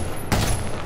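A burst of gunfire in the Medal of Honor Warfighter shooter, a single sharp loud blast cutting in suddenly after a brief quieter moment.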